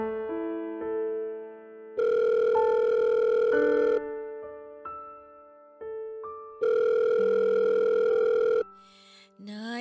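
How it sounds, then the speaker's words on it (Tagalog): A telephone rings in two long, loud bursts with a steady tone in between, sounding close and alone with no voices over it. "Sagutin niyo na po yung tawag."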